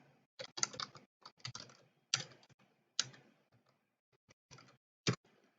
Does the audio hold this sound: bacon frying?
no